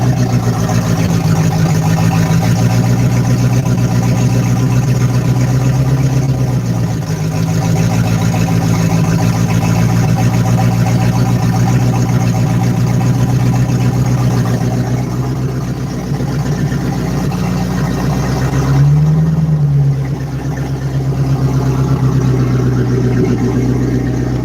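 A boat engine idles steadily with a rough, nasty-smelling exhaust, a loud continuous low drone with a brief dip near the middle and no talking over it.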